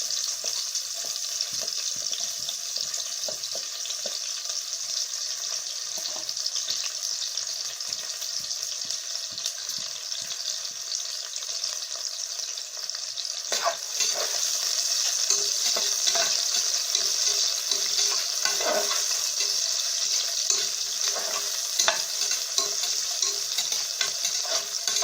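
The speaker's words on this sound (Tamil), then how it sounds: "இப்போ நல்லா வெங்காயம் வதங்கிட்டு" Onions frying in a pan for tomato rice and being stirred, a steady bright sizzle throughout that grows louder about halfway through, with soft scraping stirs and no talking.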